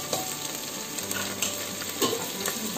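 Vegetables sizzle steadily in a hot pan with ginger garlic paste while cooking mung dal khichdi, a continuous close frying hiss with a few stirring scrapes and no talk.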